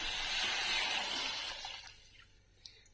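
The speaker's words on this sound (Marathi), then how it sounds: "त्याला आता गरम पाणी ओतून घेते मी" Hot water poured into a pot of yellow goat mutton soup, a steady rushing pour that is loud at first, then thins and fades to quiet trickles and a faint drip.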